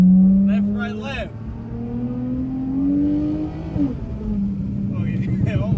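A car slides around corners in the rain, its engine revving in rising and falling sweeps, loud and close, while someone talks over it.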